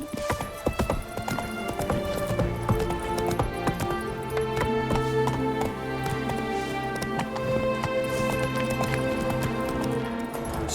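Horse galloping in the Witcher 3 video game, with rapid rhythmic hoofbeats under layered game music and ambience lasting throughout.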